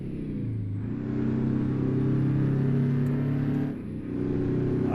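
Two-stroke truck engine in American Truck Simulator revving steadily, a loud, continuous droning note that holds and swells with a brief dip near the end, no voices over it.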